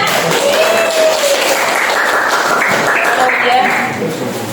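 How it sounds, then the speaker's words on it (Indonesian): An audience claps for a young presenter named Widya at a classroom-style event, producing a dense, steady burst of applause that tapers slightly at the end, mixed with voices. "Silakan tepuk tangan untuk Widya."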